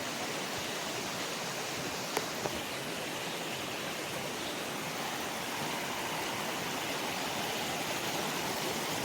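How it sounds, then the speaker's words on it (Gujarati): The Jamuna river flowing at Bhavnath, a constant broad rushing roar of water that stays even and dense throughout, close and steady with no voices. "આપણે આગળ છે જમુના નદી"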